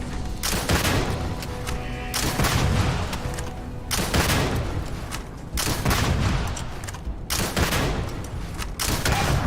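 Dense gunfire and explosions rage in a Starfield space-combat game, loud, overlapping bursts of shots and booms pounding almost nonstop, with brief dips between volleys and no talking.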